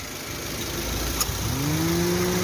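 A Toyota Avanza G engine idles with a steady, mid-pitched hum under broadband noise, a faint tone rising slightly toward the end.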